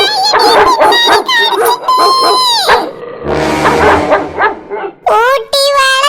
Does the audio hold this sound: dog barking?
yes